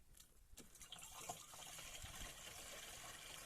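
Half a kilogram of iron sulfate being stirred into warm water in a tank, producing a steady wash of sloshing, swirling liquid that runs continuously after a brief quieter start.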